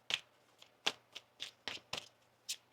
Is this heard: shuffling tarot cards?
yes